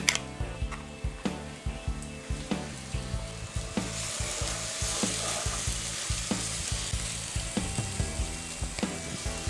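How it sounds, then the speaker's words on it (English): Ground ingredients sizzling in hot ghee for a South Indian plain biryani, a steady close frying hiss punctuated by regular scraping and clinking strokes of a spoon stirring the pan. "The ground ingredients go in next."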